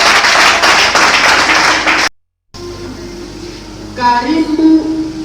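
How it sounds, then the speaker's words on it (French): An audience claps together for about two seconds, a dense, lively patter, then breaks off; after a short silence a voice speaks over a quieter room. "On applaudit pour elle."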